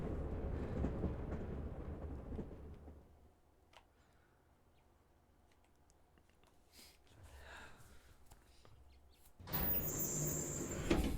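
In the Pokemon Legends Z-A video game, a train arrives at the station in Lumiose City. A rumbling run fades to a quiet hush with faint clatter, then a louder burst of mechanical noise and a high tone close the clip, with no talk over it.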